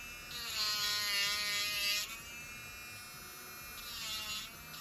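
A Makartt electric nail drill runs with a thin, high-pitched whine that dips briefly partway through and then steadies, close but fairly quiet, with no voices.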